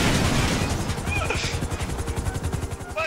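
Helicopter in Grand Theft Auto 5, a steady rapid rotor chop that runs loud and close throughout, with a few faint tonal game sounds on top and no talking.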